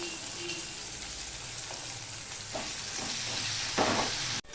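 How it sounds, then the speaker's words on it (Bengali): Chopped onion and green chillies sizzle in hot oil in a pan, a steady soft frying hiss with a few scraping stirs, and a sharp clatter near the end. "দেখো পেঁয়াজটাও ভাজা হয়ে গেছে ব্রাউন কালার হয়ে গেছে"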